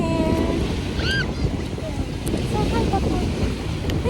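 Steady wind roars and buffets the microphone at a beach, loud and constant, with faint distant voices and high chirps under the rush.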